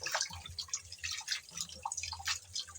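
Freshly cut pumpkin greens are washed in water, giving soft, quiet drips and small splashes in an irregular patter with no talking.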